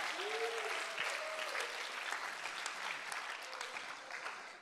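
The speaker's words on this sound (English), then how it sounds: "let's give the elders, the leaders, let's give them a big hand clap" Church congregation at a revival service claps for elders and leaders, a soft, distant patter of hands in a large room, with a brief voice early on.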